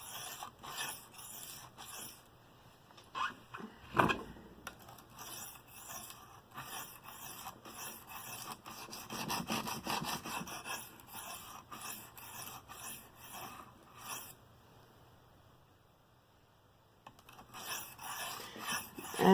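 A Bestech Scimitar knife is drawn freehand across a coarse whetstone in repeated soft gritty scrapes, faint and close, with uneven strokes and short pauses between passes.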